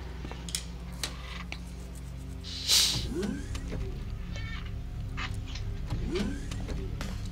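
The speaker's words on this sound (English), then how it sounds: "My chair creaked." A desk chair gives short, squeaky creaks, a couple of brief whiny groans a few seconds apart, close by over a steady hum of background noise from a video game.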